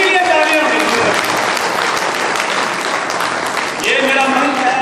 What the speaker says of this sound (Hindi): उनके लिए तालियां दीजिए।